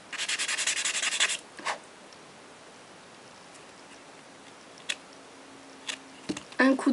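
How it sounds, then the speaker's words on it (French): Gel nail capsules have their edge filed smooth with a nail file: a steady, close, rasping scrape at the start, then quiet with a few brief scratches and taps near the end. "moi je préfère limer la démarcation, je trouve que ça fait plus joli, plus naturel"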